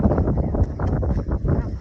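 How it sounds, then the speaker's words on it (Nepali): Strong wind at about 3,200 metres in the French Alps buffets the microphone in a steady, loud, low roar with no pauses. "ओहो हावा चल्यो, हावा धेरै चलिरहेछ है।"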